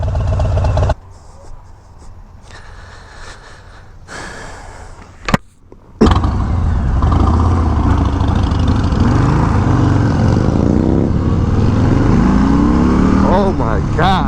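A 2019 Harley-Davidson Heritage Classic motorcycle engine revs and rumbles loudly and close, rising after a brief quieter stretch, with people talking over it.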